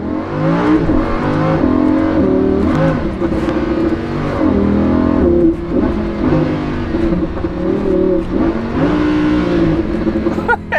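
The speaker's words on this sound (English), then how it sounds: "That was a double downshift." A Lamborghini Huracan engine howling loudly up close, with repeated rev blips and pitch drops as it works through a double downshift before a turn.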